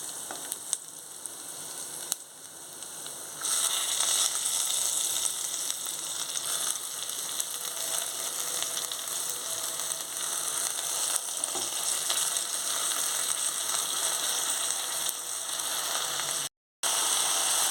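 Ponnaganti greens, cooked as a coconut fry, hit a hot pan, and a loud, steady sizzle swells suddenly and holds close and constant, with a brief cut near the end.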